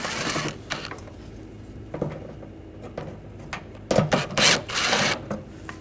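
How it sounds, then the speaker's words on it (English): Ratcheting 8mm socket wrench backing out screws from the front bumper cover of a 2009-2013 BMW 328i, heard as short close clicking bursts with mechanical rattles between quieter pauses. "Using a 8mm socket, take these two screws out."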